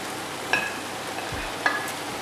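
Prawns frying in a pan for a spicy Sri Lankan prawn aviyal, a steady soft sizzle broken by two distinct clinks of a spoon stirring against the pan, with no talk.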